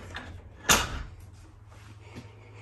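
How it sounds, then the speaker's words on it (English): A bathroom pocket door in a 2024 Brinkley Model Z Air 295 camper slides along its track, giving one short sharp bump near the middle against a low steady hum, followed later by a fainter knock. "got the cool pocket door"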